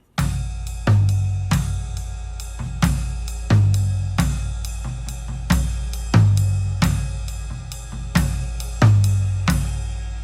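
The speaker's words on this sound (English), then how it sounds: "Rather, it's orchestrated with the toms." A steady 6/8 drum groove played on toms in a rolling triple feel, each beat booming deep and resonant, repeating evenly with no other sounds.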